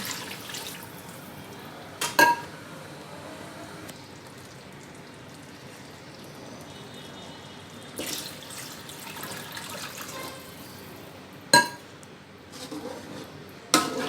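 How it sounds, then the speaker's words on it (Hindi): Water runs and splashes steadily into a metal pot of rice for Hyderabadi mutton tahari, with occasional clinks of cookware and a voice talking over it. "आप इसके अंदर पानी ऐड कर लेंगे अपने चावलों की क्वांटिटी के हिसाब से"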